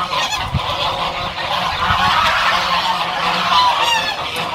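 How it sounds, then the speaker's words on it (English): A flock of geese in a lakeside estate in Kenya honks continuously and loudly nearby, overlapping calls forming a noisy, steady chorus with no talking. "The birds, they are very noisy."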